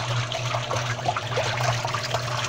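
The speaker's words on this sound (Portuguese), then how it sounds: "aqui dá pra sentir a água batendo" Water sloshing and trickling inside a Brastemp 12 kg washing machine, an irregular churning splash over a steady low motor hum, close and moderate in level, with no one talking.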